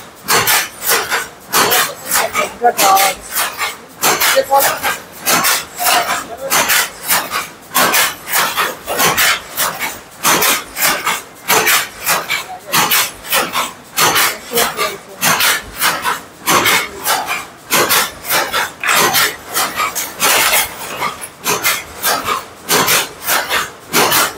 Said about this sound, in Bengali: আমার হাতে হস্তচালিত বেনারসি শাড়ি হচ্ছে